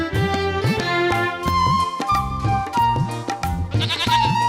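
A cartoon goat bleats in loud, repeated, tonal cries one after another, each a wavering call that runs almost continuously across the scene with no talking.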